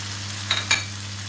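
Siyez bulgur and meatball mixture stirred in a pot, giving two brief scraping, swishing strokes of a utensil over a steady low background hum.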